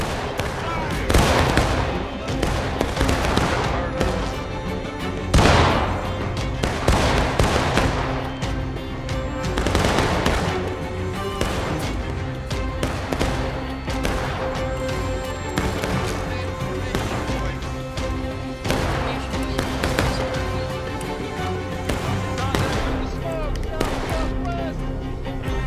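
Massed musket fire in the Civil War game War of Rights during a line battle, dense overlapping rifle volleys cracking loud and near in rapid irregular bursts, with players talking over the gunfire.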